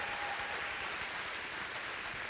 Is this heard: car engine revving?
no